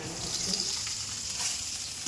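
Steady sizzling of hilsa fish frying in hot oil, a continuous crackling hiss close by with no talking.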